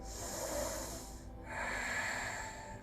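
A slow, deep breath drawn in through the nose during a yoga session, soft and close, with a second airy breath following after a brief pause, no talking.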